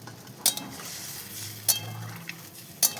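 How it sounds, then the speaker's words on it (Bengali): A spatula stirs water into a potol (pointed gourd) and shrimp curry in a pan, giving three sharp metallic clinks spaced about a second apart over a soft, steady simmering hiss. "পরিমাণ মতো জল দিয়ে খানিকক্ষণ নাড়াচাড়া করতে হবে।"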